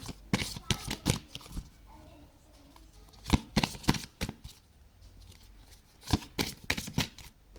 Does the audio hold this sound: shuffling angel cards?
yes